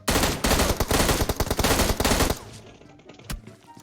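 Rapid automatic gunfire in a video game bursts loudly and almost continuously for about two seconds, then the volume drops and one lone shot cracks out near the end.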